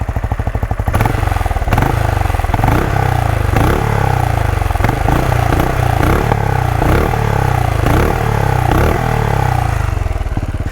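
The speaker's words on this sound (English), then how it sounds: "it sounds like an old school engine because it is an old school engine" A Benelli Imperiale 400 single-cylinder motorcycle engine with a long piston stroke idles with a steady thumping beat and is blipped through a series of repeated short revs, loud and close, with no talking.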